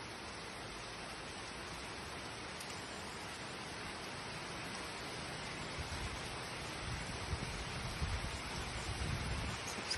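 Hail and heavy rain pour down during a hailstorm in Bogotá, Colombia, a dense, even hiss of impacts that builds slightly louder toward the end, with no voices.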